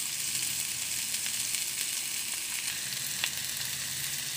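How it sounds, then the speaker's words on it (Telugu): Chopped onions stir-frying in a pan for brinjal curry with mango make a continuous soft hiss and crackle, with scattered light scrapes of stirring and no voices. "ఈ విధంగా మనం కలుపుకుంటూ మనం వేయించుకోవాలి ద్వారగా."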